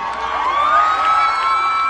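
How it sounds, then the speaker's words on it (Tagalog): Audience at the Calamba Gong Buhayani music festival cheering and shouting loudly, a sustained close roar of crowd voices and whoops filling the whole moment. "marinig ko lang yung malakas na palakpak nyo"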